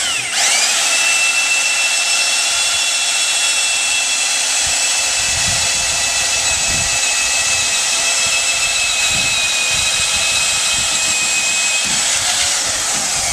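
A boring machine drills into an iPhone, giving a loud, steady high-pitched whine with a continuous grinding drone that runs unbroken throughout, with no talking.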